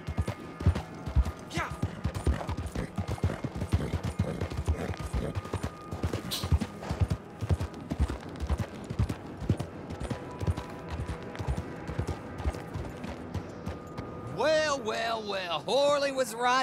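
Rapid hoofbeats of a horse in the video game Red Dead Online clip-clop steadily and close for many seconds, with a voice speaking near the end.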